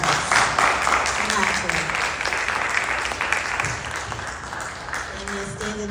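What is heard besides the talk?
audience applause at film festival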